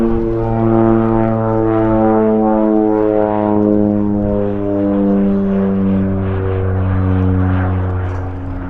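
An OV-10 Bronco twin-turboprop military aircraft at an air festival flying past, its loud, steady propeller drone with layered harmonic tones filling the whole stretch with no talk over it.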